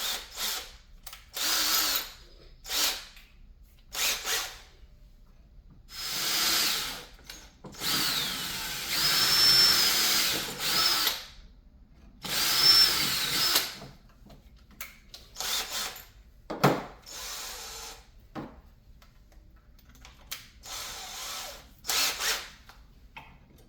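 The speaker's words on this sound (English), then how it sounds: "let's go ahead and pre-drill" A power drill pre-drills holes in a fishing rod holder built from discarded fireworks, whirring in a series of short bursts and a few longer runs separated by quiet pauses.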